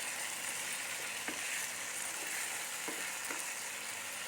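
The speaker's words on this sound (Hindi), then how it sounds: "प्याज और टमाटो को थोड़ा टाइम भून लेंगे, अच्छे से फ्राई कर लेंगे।" Onion and tomato frying in a pan, a soft continuous sizzle with a few faint scrapes of a spoon, low and steady throughout.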